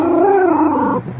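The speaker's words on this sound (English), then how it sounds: "Even she's barking." A dog outside a McDonald's restaurant lets out a single drawn-out, whining bark-howl, loud and close, lasting about a second.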